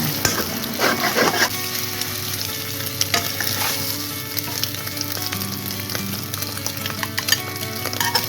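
Egg being stir-fried in a pan until nearly cooked, a strong sizzle broken by repeated spatula scrapes and clinks against the pan at an uneven rhythm, close and clear.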